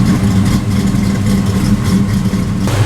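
Loud, steady low rumble from a 1973 Z28 Camaro idling with a choppy, uneven lope, heard close up with no one speaking.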